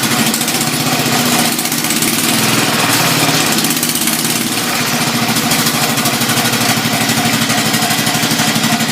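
A 1968 SS12 small engine runs at a steady cold-start idle, a loud, continuous mid-pitched chug with an even throb that never lets up, close by with no voices over it.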